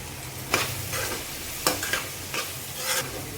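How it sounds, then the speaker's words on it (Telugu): Onions fry with salt and turmeric in a pan for a mutton curry, a steady close sizzle broken by several scraping stirs of a spoon at irregular intervals, no talking. "ఒక స్పూను సాల్ట్ వేసుకుందాము, ఆనియన్స్ త్వరగా ఫ్రై అయిపోతాయి."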